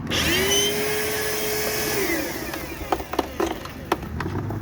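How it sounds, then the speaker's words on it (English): A Bissell vacuum cleaner running with a faulty, strained sound: a rising whine that settles, then drops away into a rough motor drone broken by sharp clicks and knocks, close and fairly loud. "That does not sound good whatsoever, so chances are this Bissell is not going to be worth my time"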